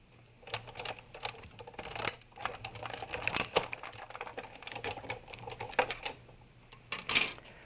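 A die-cutting machine runs paper and an adhesive sheet through to cut a framelit heart shape, giving a steady stream of soft clicking, crunching mechanical noise with a low hum underneath, at close range.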